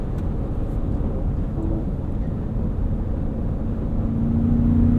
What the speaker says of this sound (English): Definitely sounds like a truck engine still.